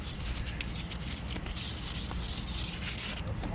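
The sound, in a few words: sanding a mountain bike fork with sandpaper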